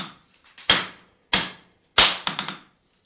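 A master smith hammers a steel block to draw out a blade, three sharp, ringing metallic strikes spaced about two-thirds of a second apart, the last followed by quicker lighter taps, close and loud.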